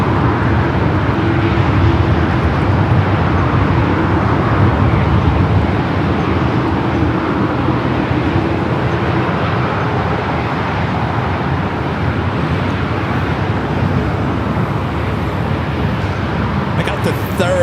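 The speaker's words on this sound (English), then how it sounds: "Tahiti Nui Dreamliner that came in from Paris. About to make that right-hand turn onto Taxiway Lima" A Tahiti Nui Boeing 787 Dreamliner taxiing on an LAX taxiway toward the west gates after arriving from Paris, giving a steady, loud, broadband jet rumble and whine that holds level throughout.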